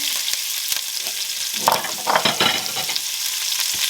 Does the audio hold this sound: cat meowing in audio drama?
no